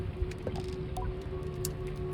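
A character collects water in the open-world adventure game Sable, soft squishy splashes and drips over a low ambient hum, with a few small sloshing taps spread across the moment.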